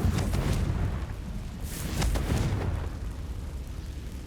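Confringo fire spell explosion in the game Hogwarts Legacy, a loud rumbling burst with dense low booms rolling on for several seconds and slowly fading.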